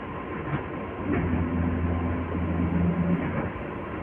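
Inside a moving local train between Howrah and Belur Math, a steady rumbling roar of carriage and wheels with faint rhythmic clatter, close and continuous.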